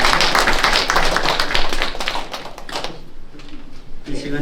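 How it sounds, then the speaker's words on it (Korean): Applause from a congregation at a prayer meeting after a pastor's special song, a loud, close burst of clapping that thins out midway, with voices talking over the end. "다시 한번 박수 드리겠습니다"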